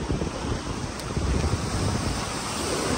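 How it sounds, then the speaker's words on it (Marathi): Waves washing onto a sea shore where people fish, a continuous low surf rumble mixed with gusty wind buffeting the microphone, no voices present. "हा सुंदर असा आमचा समुद्र किनारपट्टी हे बघा."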